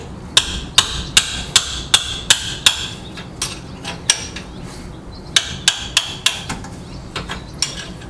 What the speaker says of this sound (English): Manual impact hammer.